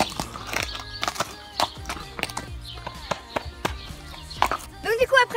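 Ponies or horses move about in a contest, their hooves clopping irregularly, before a short whinny near the end. Voices can be heard faintly in the background.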